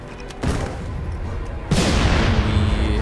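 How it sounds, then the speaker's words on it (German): Explosions from grenades and dynamite in the war video game Saboteur: a dull blast lands, then a second, heavier burst rolls into a sustained loud rumble that fills the rest of the stretch. "Irgendwie explosionsmäßiges. Granaten. Dynamit."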